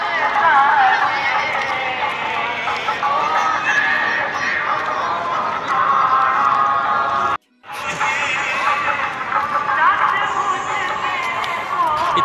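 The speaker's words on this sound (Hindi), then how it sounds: "काफी भीड़ है" Dense, constant crowd din at the 64 Yogini temple in Ranipur Jharial, Balangir, Odisha, with many voices chattering and calling close by. A brief dropout cuts in midway before the noise resumes.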